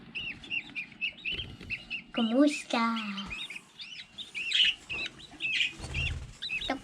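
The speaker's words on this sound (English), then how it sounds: "My dad is breeding the budgies and the baby ones" Week-old baby budgie chicks give rapid, thin, high chirps up close. A person speaks briefly between the calls, and a few louder squawks break in partway through.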